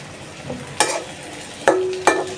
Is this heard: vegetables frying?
yes